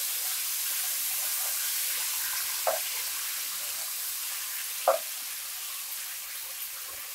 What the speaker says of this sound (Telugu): ఈ ముక్కల్ని ఈ ఆయిల్లో వేయించాం.